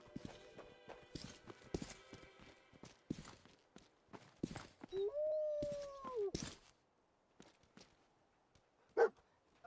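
Dogmeat, the companion dog in the Fallout 4 video game, lets out a short whine or bark among soft footsteps and faint scuffing. A single brief yelp follows near the end. Nobody talks.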